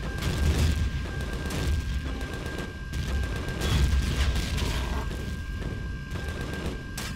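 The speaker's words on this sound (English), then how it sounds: "Where is the rocket launcher even pointing right now? He's shooting at aliens on the ground!" A rocket launcher fires at aliens on the ground in Empyrion Galactic Survival. Heavy booms and blasts overlap into a loud, continuous barrage with rolling low rumble throughout.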